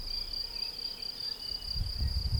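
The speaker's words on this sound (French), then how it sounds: "Le chant des oiseaux, le chant des grillons." Crickets chirp in a steady, continuous high-pitched trill, moderately loud and alone, with a low rumble rising near the end.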